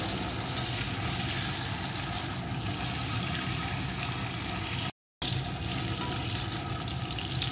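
Halved, peeled pointed gourd (potol) salted and frying in hot oil in a pan, a dense steady sizzle and crackle that runs unbroken for several seconds, loud and close, with a brief cut partway through.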